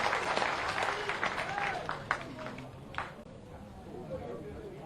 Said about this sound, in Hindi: एक बार फिर जोरदार ताली बजा के अपने नेताओं का स्वागत करें